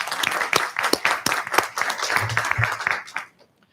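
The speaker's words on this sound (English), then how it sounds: "I'd like to ask us all to give Team UCPS a big round of applause for a successful school year" Applause from a gathered crowd at a Union County Public Schools board of education meeting, a steady burst of clapping lasting about three seconds and then stopping abruptly, with some voices mixed in.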